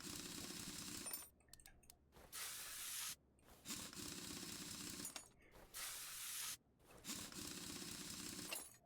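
Repeated hissing bursts of WD-40 sprayed onto seized brake parts in the game Car Mechanic Simulator 2021, five or six short spray blasts separated by brief clicks and pauses, clean and close.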